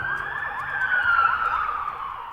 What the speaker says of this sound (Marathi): सायरनचा आवाज दूरपर्यंत पोहोचतो